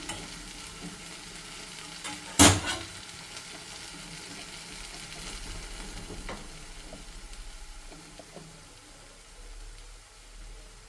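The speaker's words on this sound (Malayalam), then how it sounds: "ഇനി നമുക്ക് കുറച്ച് മസാലകൾ ആഡ് ചെയ്യാം" Tomato masala for quail egg curry frying in a pan, giving a low, steady sizzle, with one sharp knock early on and faint stirring sounds, close and with no voices.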